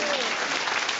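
A theatre audience breaks into brief, dense clapping at a charity performance, a loud burst of many hands lasting about a second.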